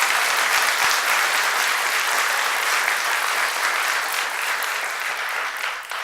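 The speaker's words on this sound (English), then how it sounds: "If you can give them a round of applause as well" A crowd at the Leadership Mountain View graduation ceremony applauds steadily, a thick, continuous patter of many hands that holds strong throughout before easing slightly at the close.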